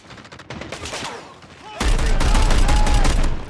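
Rapid gunfire bursts in a multiplayer shooting video game, a gun that downs opponents in two or three shots on the Crash map, crackling loud and close in dense volleys after a quieter opening stretch.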